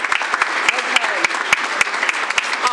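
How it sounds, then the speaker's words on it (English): Light, scattered applause from a small audience at a school board meeting, individual claps audible as sharp separate hits over a soft background murmur. "They deserve a round of applause as well"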